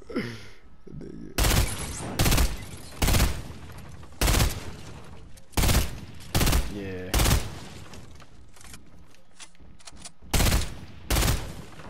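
Gunfire in the Fortnite battle royale game, about ten loud, sharp shots spaced roughly a second apart, each with a brief echoing tail, over a low background with faint sighs.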